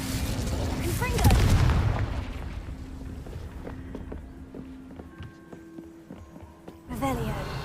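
Confringo spell blasts in Hogwarts Legacy: a loud booming burst early on, followed by quieter scattered impacts and crackles over a steady game background.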